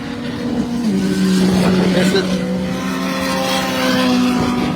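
Race cars passing a circuit tower during a race, a Mitsubishi followed by a KTM, steady loud engine drone with rising and falling pitch as the cars pass, under a commentator's voice over loudspeakers.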